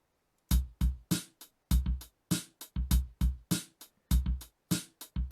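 A modified FL Studio drum loop plays alone, its kick drum and hi-hat hits bouncing in a steady, slightly swung rhythm of short, punchy, loud strikes with brief gaps between.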